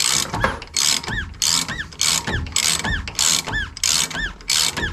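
Ratchet wrench tightening the link bolts on a Rough Country 6 inch lift kit for a 2004 Ford F150, a steady series of loud, close metallic clicking bursts in a repeating rhythm with short pauses between strokes.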